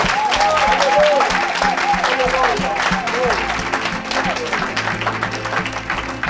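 A church congregation applauds and acclaims the Lord, with loud, dense clapping filling the space while a voice calls out over it throughout.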